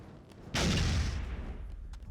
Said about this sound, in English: Dude, grenades cook for so long.